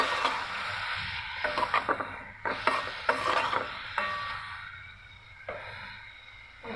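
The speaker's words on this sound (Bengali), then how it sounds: "এখন মশলাটা আমি ভালো মতো ভেজে নেব।" Ginger-garlic-cumin paste with chili powder fries in a pan as a spoon stirs and scrapes it in bursts, soft sizzling underneath the intermittent clinks and scrapes, close and fairly quiet.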